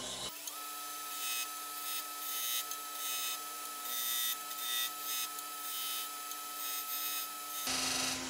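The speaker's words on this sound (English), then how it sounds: "I think we'll do a few more small V-grooves right up here just to kind of finish that off." A woodturning tool cuts small V-grooves into a spinning wooden vase on a lathe, making a steady high whirring scrape that runs nearly unbroken and ends abruptly, close and alone.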